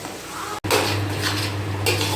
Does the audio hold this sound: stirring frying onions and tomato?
yes